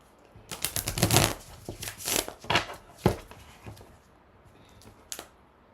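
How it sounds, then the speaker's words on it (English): Tarot cards are shuffled by hand in a series of crisp riffling bursts and soft slaps, close and fairly quiet, with short pauses between the bursts. "let's break these down a little more and shuffle them."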